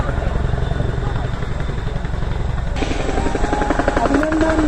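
A Chinook helicopter at an air show over Srinagar, Kashmir, fills the air with heavy, continuous rotor thudding that grows louder and busier near the end, while people talk and call out nearby.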